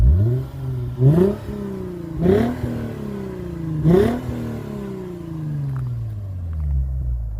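A Lexus IS250 with an Invidia Q300 exhaust is revved three times, each sweep rising sharply before easing back down to a deep, throaty idle rumble. Loud and close, with no talking.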